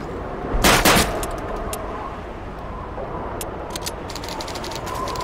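Gunshots in Call of Duty 2 during target-practice training: a brief burst of loud gunfire crackles early, followed by scattered faint shots and a steady background rumble.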